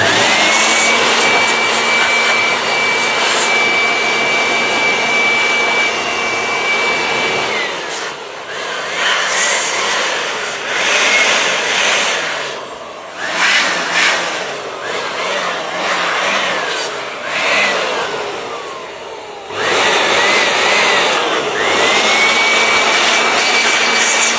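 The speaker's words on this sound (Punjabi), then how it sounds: "ਹੁਣ ਆਪਾਂ ਇਹਨੂੰ ਕਰਾਂਗੇ ਸਾਫ਼ ਬਲੋਰ ਲੈ ਲੈਣਾ" An electric air blower roars loudly as it cleans dust out of an inverter, with a strong whine that cuts off briefly, wavers and surges, then resumes at full force.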